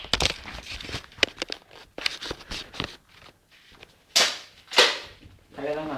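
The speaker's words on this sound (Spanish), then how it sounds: "Tiro con escopeta a Adonai." Several sharp cracks from an airsoft shotgun fired in a backyard game, close and snappy, mixed with rustling, movement and brief voices.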